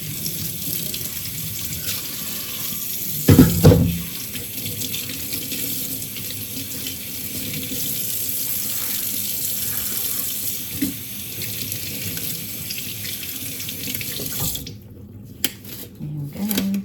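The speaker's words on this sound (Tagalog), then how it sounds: "Tapos lalagyan natin ng tubig." Tap water runs steadily into a cooking pot while preparing sinaing na tulingan, a continuous rushing hiss with a brief clatter near the start, cutting off near the end.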